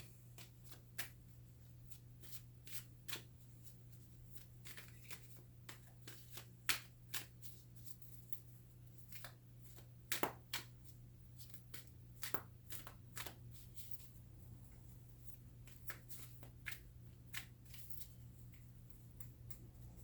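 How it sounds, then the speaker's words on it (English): Crisp, irregular riffling and snapping of cards being shuffled, quiet and close, over a steady low hum, with clusters of flicks spread throughout. "so let's do the shuffle."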